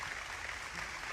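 Crowd at a comedy show clapping and cheering, a dense, even wash of applause filling the room, fairly distant and steady throughout the short stretch.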